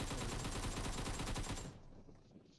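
Rapid gunfire from PUBG Mobile, a dense burst of loud sharp shots for about a second and a half, then cutting off to quiet.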